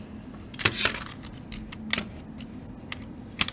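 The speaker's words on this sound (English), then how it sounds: "So I'm going to pull off these keycaps" Mechanical keyboard keycaps pried off one after another with a keycap puller: sharp plastic clicks and snaps, a cluster near the start then scattered single pops, close and fairly quiet.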